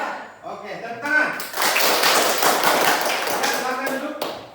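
An Indonesian classroom group claps together, a burst of dense, steady clapping that builds quickly and holds for a few seconds before fading, with some voices mixed in.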